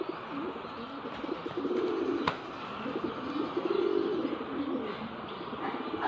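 A pigeon coos softly in repeated low, throaty phrases close by, over a steady hiss of background noise.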